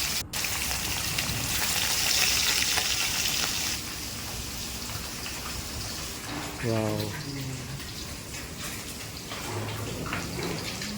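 Kalbos fish fry in hot oil, giving a continuous close hiss and crackle that is strongest in the first few seconds and then settles into a steady, softer sizzle.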